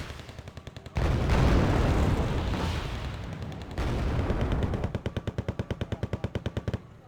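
Rapid bursts of tank and autocannon fire in the real-time strategy game Wargame Red Dragon, M1 tanks trading shots, with loud sustained rattling volleys and a fast rhythmic string of shots toward the end.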